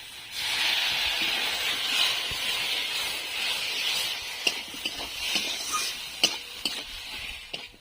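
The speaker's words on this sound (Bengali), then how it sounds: "এটা যাতে না ধরে যায় তার জন্য আমি একটু জল দিয়ে দেবো।" Hissing and sizzling as water hits a frying Mola fish curry in a pan, a steady broad hiss with stirring clatter and a few sharp clicks near the end.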